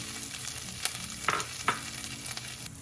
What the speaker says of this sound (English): Once you add semolina, start stirring.